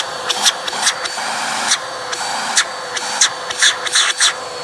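A Bissell Powerlifter Swivel Rewind Pet 2259 vacuum cleaner runs with a steady whine, broken by repeated loud bursts of rough suction or rubbing, close by with no talk.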